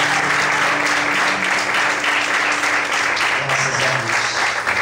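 A church congregation claps together in dense, steady applause for the Lord, loud and sustained throughout without a break.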